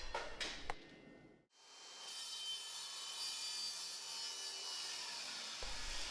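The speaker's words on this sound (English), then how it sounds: "4x4 Douglas fir post and I'm cutting it at 38 inches" A miter saw with a fine finish blade slices through a 4x4 Douglas fir post, a brief clatter followed by a sustained, even cutting whine and rasp that holds steady for several seconds.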